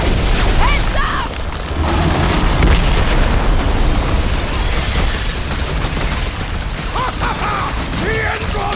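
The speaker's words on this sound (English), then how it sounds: "Take heed of the explosive, Peter Quill!" Explosions and bursts blast through a chaotic Marvel superhero video game battle, with dense mechanical clatter, pops and booms continuing loudly over the whole stretch, a few brief character voice calls poking through.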